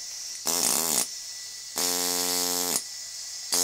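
A homemade pneumatic engraving chisel runs in three bursts, a loud steady buzzing drone with a strong hum and a hiss of air that starts and stops abruptly between short pauses.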